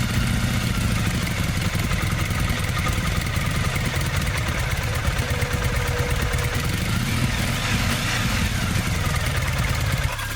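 A Triumph Bonneville motorcycle engine runs at a steady, loud idle throughout its first startup after installation, with a constant close-up mechanical clatter and no voices.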